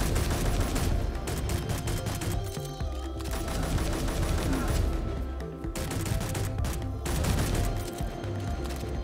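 Gunfire in the video game Space Engineers crackles in long, rapid bursts like machine-gun and mixed shots, fairly steady across the stretch with brief gaps, with some talk underneath.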